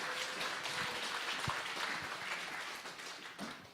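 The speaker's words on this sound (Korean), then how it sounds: "우리 박수로 환영하겠습니다." Fairly faint, steady applause from a church gathering at an evangelism camp festival welcomes a pastor, a dense patter of clapping that continues for several seconds with little else over it.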